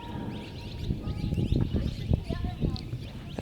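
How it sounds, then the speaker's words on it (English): Birds and bats calling inside one of North America's largest caves, a scatter of short chirps and squeaks over a busy, echoing background with people talking nearby. "Some of them are birds, some of them are bats."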